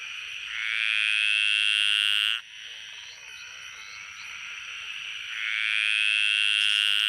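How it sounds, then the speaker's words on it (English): A graceful tree frog calling, long loud trilling bursts that start, break off briefly, then resume, heard close and clear with no talking. "And the graceful tree frog."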